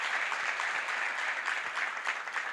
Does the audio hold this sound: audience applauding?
yes